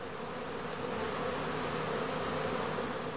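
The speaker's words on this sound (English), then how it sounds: "The experienced beekeeper can tell from their behavior at the entrance whether the bees are about to swarm" Honey bees buzz around the entrance of a woven skep, a dense, continuous drone of many wings close by, steady in loudness with no voices.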